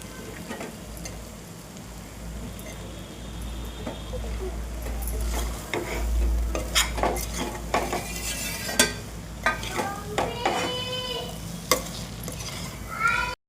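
Soybeans are stir-fried with spices and vegetables in a pan, a low sizzle under repeated scraping and clinking strokes of a spoon that grow louder toward the end, with no one speaking.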